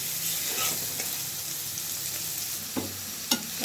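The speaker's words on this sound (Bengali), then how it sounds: "পেঁয়াজগুলো আমি খুব ভালোভাবে ভেজে নিচ্ছি।" Chopped onion and garlic fry in oil in a pan, giving a steady, soft sizzle with a few sharp clicks of a utensil against the pan.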